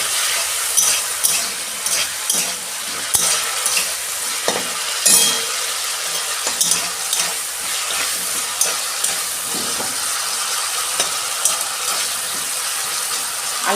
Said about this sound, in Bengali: আলুটা আমি 2 মিনিট একটু ভেজে নেব